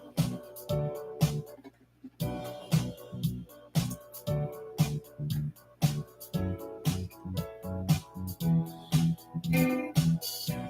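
A backing track with a steady funky groove of punchy drums, bass and rhythmic chords, looping at a moderate pace, fairly quiet and with no voices.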